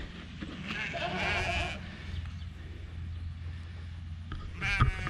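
Sheep bleat in short wavering calls, one early and another near the end, over low steady rumble and some voice in the background at a farm with a Kiko buck goat nearby.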